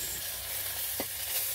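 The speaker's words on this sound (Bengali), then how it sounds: "প্রথমে বাউল মাছ ভাজা হচ্ছে" Baul fish frying in a pan gives a steady, moderately loud sizzle with a brief stirring scrape partway through.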